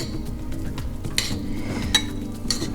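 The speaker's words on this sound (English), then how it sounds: "Just stir it up." Tofu is stirred with teriyaki sauce in a bowl, a soft scraping swirl broken by a few sharp clinks of the utensil against the bowl's side.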